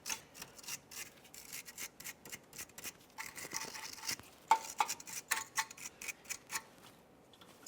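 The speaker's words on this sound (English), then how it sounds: "Now let's continue on with a wire brush. Typically, I like to try to clean up the fitting where the brake line is." A wire brush scrubs rust from a brake line fitting on a 2001-2005 Ford Explorer Sport Trac. Quiet, close, rapid scratchy strokes come in uneven bursts, with no talking.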